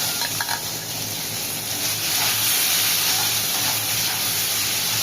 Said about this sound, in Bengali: পেঁয়াজগুলো ভাজতে প্রায় 5 মিনিট মতোই লাগবে মশলা দিয়ে